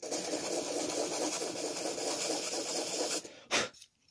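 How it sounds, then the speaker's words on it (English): Rapid, continuous rasping as a 3D printed flute is hand sanded, a dense scratchy stroke texture that runs for about three seconds, then breaks off into a couple of short louder scrapes before falling quiet. "a little bit of sanding"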